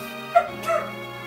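Dogs in the Final Fantasy VI video game give two short barks close together, a sharp yip followed by a slightly longer one, over a steady game soundtrack.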